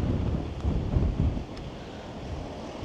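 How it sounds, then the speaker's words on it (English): Strong wind buffets the microphone at an outdoor football stadium, a low rumbling roar with gusts that swell in the first moments and then ease to a softer, steady blow. "It's really windy, you know."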